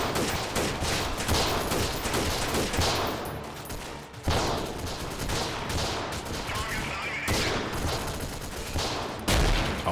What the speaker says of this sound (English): We actually got a couple of kills with that grenade right there